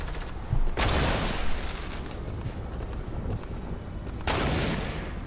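Gunfire from the video game Fortnite during a squads match: dense bursts of shots with two loud volleys standing out over a continuous rattle of distant firing, no talking.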